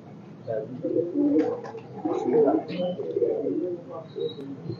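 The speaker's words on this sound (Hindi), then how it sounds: "गोल्डन कबूतर है जी" A golden pigeon coos close by, a few soft throaty phrases in a row at moderate volume, with faint background noise.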